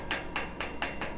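Light welder's hammer pecking on metal, five evenly spaced sharp taps about a quarter second apart, close and clear with no talk.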